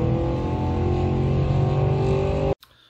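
A Chevrolet Camaro 1LE on an autocross course at LS Fest West drones loudly and steadily under load with a sustained engine note, then cuts off abruptly near the end.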